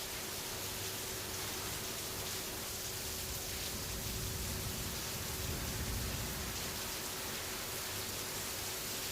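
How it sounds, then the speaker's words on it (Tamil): Heavy rain falls in Chennai after a long dry spell, a dense, steady roar of broadband hiss that continues unbroken throughout with no voices. "நல்ல மழை."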